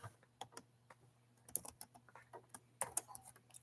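Quiet typing on a computer keyboard in a knife-making workshop, irregular bursts of soft key clicks with a few sharper taps, no voices.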